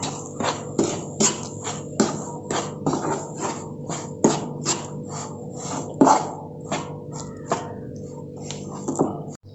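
Mashed banana and rice flour stirred together in a pan, heard as a series of close, soft scraping and tapping strokes in an irregular rhythm.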